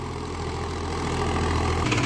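A Kartar tractor engine pulls an 11-tine plough in a field, a steady low chugging drone with a faint rhythmic knock, close and continuous, rising slightly in load near the end.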